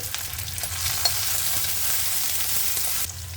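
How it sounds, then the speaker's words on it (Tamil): Steady, close sizzling of chopped onion, garlic and ginger frying in a hot pan, a continuous crackle with a few small pops, and the hiss easing slightly near the end. "இந்த சமையலில் ஒரு நறுக்கி வச்ச ஒரு பெரிய வெங்காயத்தை சேர்த்துக்கலாம்"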